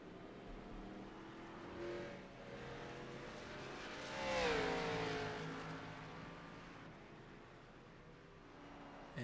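Race cars in a Talladega stock car racing video game, with engines droning steadily and one car roaring past in a rising and falling sweep midway through, without any clear crash impact.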